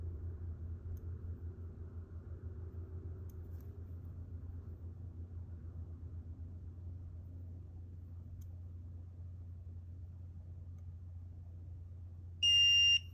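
A handheld gemstone tester sounds one short, loud electronic beep near the end while testing jewelry stones, after a long stretch of quiet low hum.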